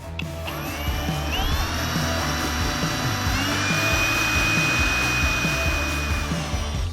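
A Dnipro-M CD-202BC cordless drill-driver drives a 240 mm lag screw, a loud continuous motor whine with grinding strain that holds steady for about seven seconds, close to the listener and with no talking.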